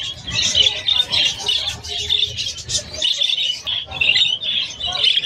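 Pet birds, including lutino birds, chirping at the Malabon pet market in a dense, continuous chorus of bright overlapping tweets close by, with a few quieter moments between.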